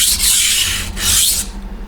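A knife edge is sharpened on a Sigma Select waterstone with forward and back strokes, heard up close as two long, even rasping passes with a brief pause between them.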